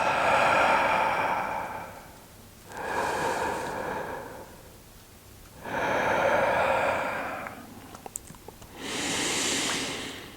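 Deep, slow abdominal breathing close to the microphone, four long airy breaths alternating inhale and exhale in a steady rhythm, with no talking.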